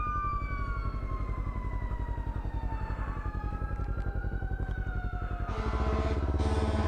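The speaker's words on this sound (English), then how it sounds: "Where are these sirens coming from?" Emergency vehicle sirens wail from a distance over a motorcycle's steady engine thrum, tones sliding up and down and overlapping, growing louder and more layered near the end.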